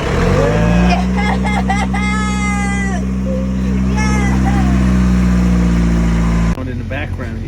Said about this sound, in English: Oh, just a fabulous engine running after 2 days of not running